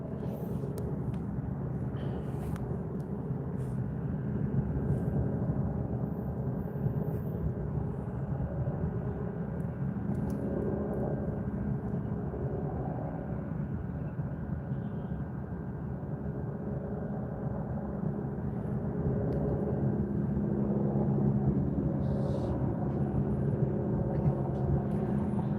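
Albuquerque police (APD) helicopter hovering overhead, a steady low rotor and engine drone that holds continuously and fairly loud throughout, with no talk.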